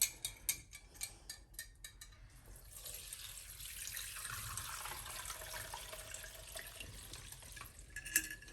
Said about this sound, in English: So I'm just going to put it through a sieve.